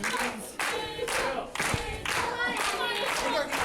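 A pro wrestling crowd claps in a rhythmic beat, the sound dense and echoing through the arena and lasting throughout.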